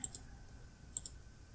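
Two quiet computer mouse clicks, each a quick double tick, one at the start and one about a second later, over a faint hum on a Windows computer.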